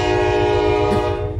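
A train horn blasts loud and steady as a train passes close by, with a continuous rumble beneath the horn.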